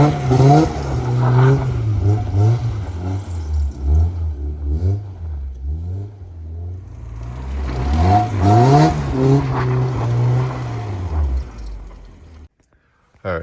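A 1996 Mazda Miata engine runs as the car drives, a steady close drone that rises and falls with throttle, swelling again near the end before cutting off abruptly.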